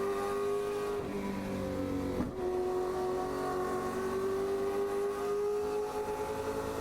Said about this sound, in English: just listen to the Mustang climb the hill here.